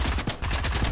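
Rapid pistol gunfire in a knockout air-raid shooter match, a steady stream of sharp shots throughout with a short gap near the start, loud and close.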